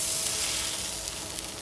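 A little oil sizzles on a hot tava for shallow frying, a soft, even hiss that holds steady and fades slightly, with faint crackles near the end and no voices.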